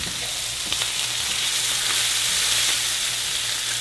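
Shrimp fry in a hot pan with an infused basil and thyme salt, giving a steady, close, dense sizzle and hiss with a few faint stirring clicks, no talk.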